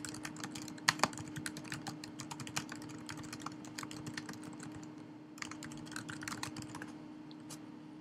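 Keys clatter on a computer keyboard as a terminal command is typed, a brisk irregular run of close, crisp clicks with a short pause partway through over a faint steady hum.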